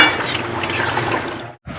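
A spoon scrapes and clinks through chicken curry in a pot just after garam masala is sprinkled over it, a steady close stirring with a soft liquid sizzle and a brief gap near the end.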